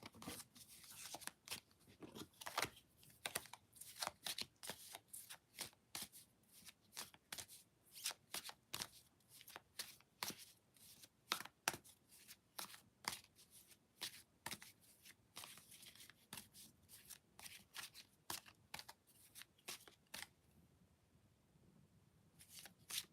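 A deck of tarot cards is shuffled continuously for over twenty seconds, producing a steady stream of close, crisp riffling and slapping bursts with no talking.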